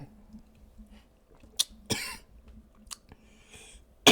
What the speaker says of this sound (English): my bad, I'm coughing.